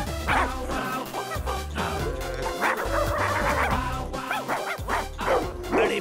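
A dog barks and yips repeatedly in a busy film scene, its sharp barks coming close and loud in irregular bursts over background music and noise.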